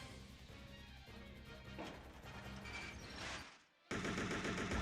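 Assault rifle bursts in the Dreamcast version of Resident Evil Code Veronica crackle continuously over game music, then cut out briefly before a loud sharp resumption.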